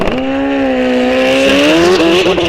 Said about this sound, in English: Hit that rev limiter.